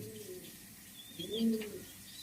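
A breeding pair of pigeons coos softly at close range, with one low, throaty coo swelling in the middle over faint background hiss and no talking.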